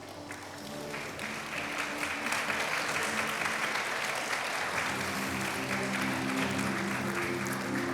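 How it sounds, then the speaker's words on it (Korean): Sustained audience applause for award winners at an education award ceremony, steady and full throughout with a faint musical tone running underneath. "많은 분들 큰 박수로 함께 해주시기"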